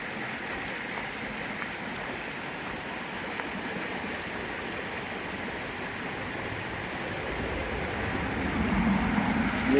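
A stream flows at an Appalachian Trail crossing, a steady broadband rushing of water that stays close and constant, swelling slightly louder toward the end.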